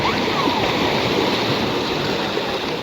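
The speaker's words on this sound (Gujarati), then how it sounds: "અહીં જો દરિયાના મોજા જો કેટલા મસ્ત મસ્ત જ આવે છે." Sea waves wash continuously against the shore at Dwarka, making a steady, close, full roar of churning surf with no break across the clip.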